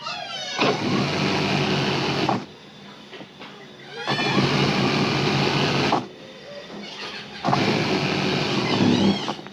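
A sewing machine runs in three bursts of about two seconds each while stitching elastic onto a pair of ladies' pants. It whirs loud and close, with short quiet pauses between the bursts.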